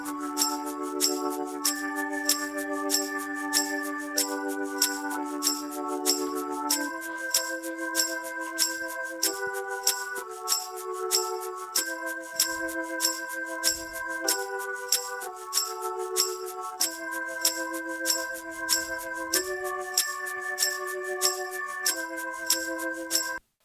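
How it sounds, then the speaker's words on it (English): A sustained tonewheel organ plays changing chorus chords in a steady progression, with bright percussive clicks repeating on the beat throughout and no voices. "It's the tone wheel organ, which also sounds like this in the chorus."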